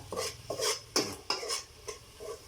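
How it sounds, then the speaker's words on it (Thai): Fermented fish (pla daek) cooking in a pot for a Lao fish soup, with a few sharp clinks and scraping knocks of a utensil against the pot between soft crackling, close and fairly quiet. "ตอนนี้ ปลาแดกเริ่มซีใหม่ๆจังหน่อยกำลังหอม"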